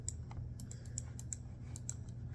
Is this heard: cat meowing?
no